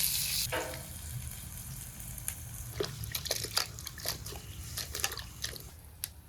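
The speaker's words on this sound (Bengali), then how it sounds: "ভাজা মাছ নামিয়ে পেঁয়াজ রসুন কাঁচা লঙ্কা দিলাম।" Onion, garlic and green chili frying in oil make a quiet sizzle with scattered sharp crackles and pops, close by and without talk.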